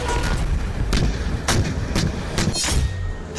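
Artillery fire during an integrated military firing exercise in the Thar desert sands of Rajasthan, with a rapid series of sharp booms and thuds at irregular intervals over continuous rumbling.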